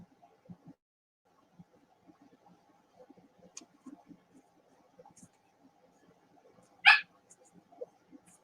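A small dog yaps in short, faint bursts, with one louder yip near the end, against a quiet room where people talk softly in the background.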